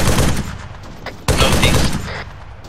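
Video game gunfire in a team-versus-team mortar-destruction mission, with loud continuous bursts of automatic fire, a brief break, then another sharp volley that trails off toward the end.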